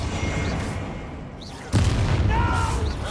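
An Incendio fire spell blast in Hogwarts Legacy, a sudden booming burst partway through amid ongoing combat effects and faint whooshing spell sounds.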